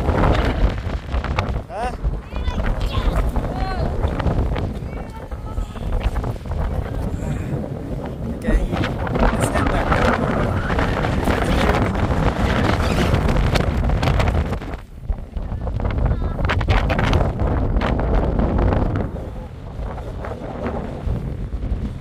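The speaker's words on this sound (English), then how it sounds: "Guys, it's really windy here." Strong wind buffets the microphone in loud, rumbling gusts that dip briefly before roaring back, at Pyramid Island and Patricia Lake in Jasper.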